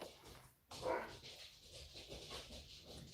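A dog barks and whimpers in the background of an indoor room where watercolor paints are being poured, with a loud burst near the start followed by ongoing restless noise.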